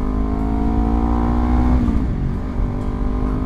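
A Honda CBR250RR motorcycle fitted with a Villan MV2 exhaust, its engine droning loud and close with a sustained rising-and-falling rev under way, no talking.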